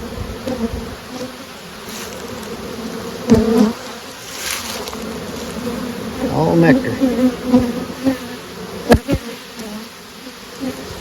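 Steady buzzing of many honeybees fills the air up close at a hive box holding a small swarm, with individual bees droning past; someone speaks briefly.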